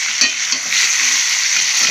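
Bitter gourd pieces fry with turmeric and salt in a pan, giving a steady, close hiss of sizzling oil with faint stirring scrapes underneath throughout.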